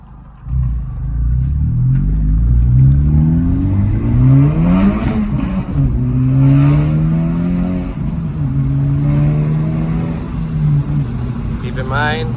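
A modified 2025 Honda Civic Type R FL5 in sport mode accelerates hard through several gears, the engine climbing in loud rising sweeps with brief dips between shifts, heard from inside the cabin.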